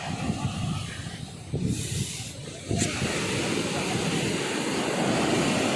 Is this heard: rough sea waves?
yes